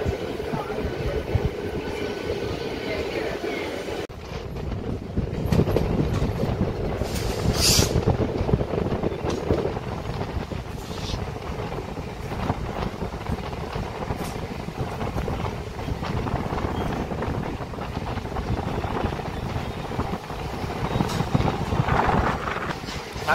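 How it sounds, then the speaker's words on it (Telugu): A MEMU electric passenger train pulls out of a station platform and picks up speed, a sustained rumble and rattle of wheels and carriages heard from on board, with heavy wind buffeting and occasional clanks. "నాకు ఈ మెమో ట్రైన్ అంటే చాలా ఇష్టం అండి"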